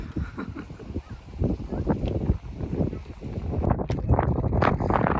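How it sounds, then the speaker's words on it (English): Wind gusts over a mountain path on Beinn Ime in the Arrochar Alps, roaring and buffeting the microphone in loud uneven surges that build toward the end. "So the wind's coming up a little bit, but still really nice."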